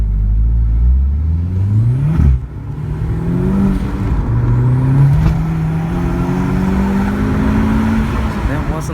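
A 300bhp Golf MK4 GTI 1.8T accelerates hard from 0 to 60 on a wet road, its engine loud and close as the pitch climbs through several gear changes, with faint talk over it.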